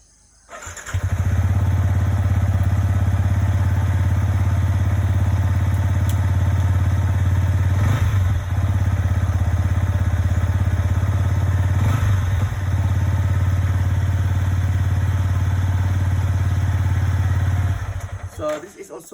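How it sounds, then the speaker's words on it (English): A Yamaha XSR 155 classic-style motorcycle being ridden, its engine droning loud and steady up close with a low, constant rumble that starts abruptly and cuts off near the end, with a couple of faint thumps along the way. "So this is a classic bike, so an XSR 155."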